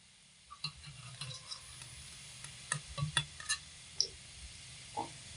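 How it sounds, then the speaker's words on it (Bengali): Pointed gourd fritters fry quietly in oil beneath scattered clinks and scrapes of a slotted spoon against the pan, several sharp taps standing out over a soft bubbling hiss. "বড়াগুলোকে এরকম লাল করে ভেজে নিয়েছি এবার তেল থেকে ছেঁকে তুলে নেব"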